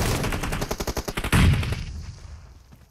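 Gunfire in the mobile battle royale game PUBG Mobile: a rapid automatic burst of about a dozen sharp shots, ending in a louder blast whose echo trails off over the last second and a half.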